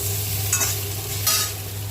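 Bitter gourd frying in a pan with a steady close sizzle, broken by two brief scraping stirs about three-quarters of a second apart, with no voices.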